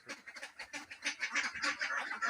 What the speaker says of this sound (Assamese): ই এটা ক'লা হাঁহ